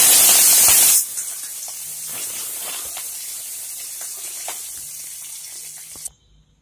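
Mustard seeds, urad dal and curry leaves hitting hot oil in a kadai: a loud hissing burst for the first second, then a steady, quieter sizzle with faint pops that cuts off abruptly.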